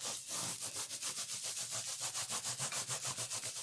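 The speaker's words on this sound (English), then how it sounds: "So I'm just going to rub that with my Baron" A baren rubs paper laid over a plastic sheet on a lino block, making a quiet, rhythmic swishing that repeats quickly and evenly with no other sounds.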